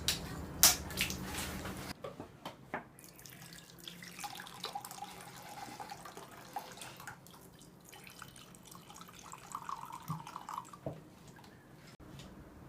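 Aged Italian wine poured from a bottle into a glass, a soft continuous trickle with faint gurgles lasting several seconds after a brief clatter, quiet and close, no talking.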